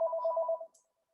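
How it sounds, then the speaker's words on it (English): A phone rings with one short warbling electronic trill that is quiet and close. It cuts off after under a second and leaves a faint fading tail, with no talk. "my phone just rang."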